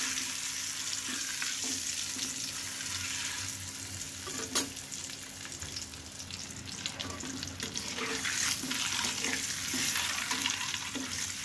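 Boiled eggs frying with turmeric in oil hiss and crackle in a steady close sizzle, with occasional stirring scrapes and knocks rising and falling throughout.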